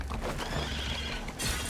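A horse neighs in the Sherlock Holmes: The Devil's Daughter video game, a loud whinny over rumbling game sound, followed near the end by a brighter crash or rattle.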